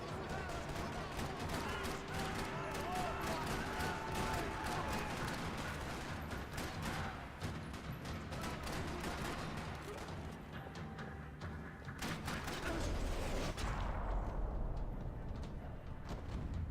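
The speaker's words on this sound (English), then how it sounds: "Another parking lot rattling with gunfire." Gunfire rattles across a parking lot in the video game Max Payne 3, with bursts of shots and crashes layered over a continuous dense action mix, loud throughout with a heavier boom near the end.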